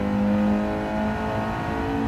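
A Nissan Silvia in Gran Turismo 7 accelerates out of a banked corner on the Streets of Willow Springs, its engine a loud, sustained buzzing drone that holds steady and climbs slightly in pitch.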